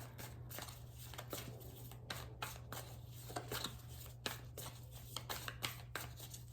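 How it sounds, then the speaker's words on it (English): A deck of cards being shuffled repeatedly, crisp riffling bursts one after another over a steady low hum, fairly close. "I don't know why I keep shuffling"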